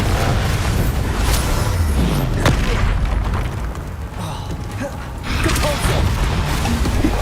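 Bombarda spell explosions in Hogwarts Legacy combat, a continuous heavy rumble of booms and bursts with whooshing bits, loud throughout and easing briefly before surging again.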